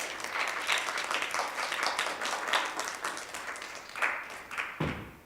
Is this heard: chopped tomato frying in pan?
no